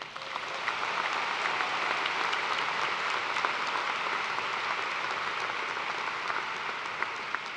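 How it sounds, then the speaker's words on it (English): A large commencement audience at a university graduation ceremony applauds the graduating students, a steady, dense wash of clapping from many hands that holds at even loudness throughout, with no voices over it. "Please join me in applause to acknowledge the scholastic achievement of all of"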